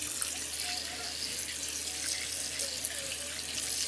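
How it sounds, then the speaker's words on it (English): Tap water runs steadily into a big bowl of oxtails being rinsed, a continuous close splashing stream. "So I'll fill it with water and then some vinegar and lime too."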